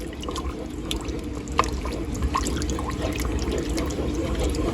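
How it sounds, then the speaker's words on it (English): One cup of vegetarian broth is poured into a pot of vegan cauliflower-crab chowder, giving a soft liquid trickle over a steady low background hum, with a few small drips and splashes. "Now 1 cup of vegetarian broth is going in."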